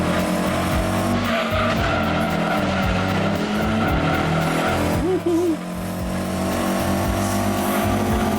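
A historic Ford GT race car in Gran Turismo 2 skids through corners, tires squealing in repeated bursts over a loud engine drone, with a voice talking briefly partway through.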